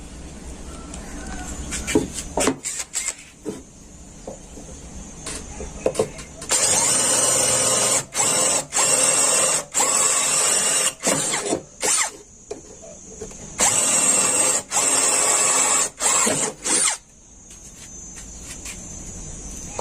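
An OSUKA OSAD-2X brushless cordless drill whirs in several bursts of a few seconds each, separated by short pauses, loud and close, with low background noise in the gaps.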